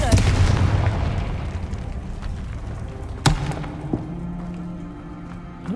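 A Confringo blasting spell explodes in Hogwarts Legacy, a loud booming burst that decays over a few seconds, followed by a sharp crack and smaller thuds.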